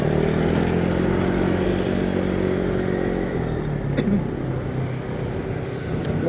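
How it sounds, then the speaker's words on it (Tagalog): Motorcycles and cars rumble past in busy riverside traffic on a bicycle ride home from the office, a steady close engine drone with a couple of brief sharper bursts. "Ang daming motor sa kanan."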